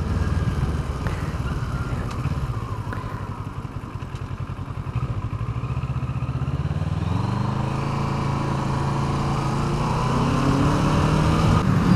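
A Kawasaki ER-6N motorcycle on a test ride gives a steady, close engine drone that climbs in pitch and loudness toward the end as the throttle opens.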